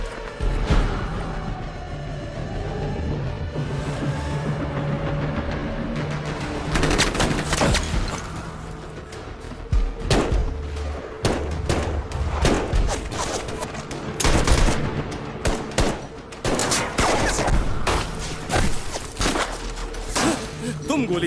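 Rapid bursts of movie gunfire crackle and pop repeatedly over a rumbling backdrop, with shouted voices mixed in.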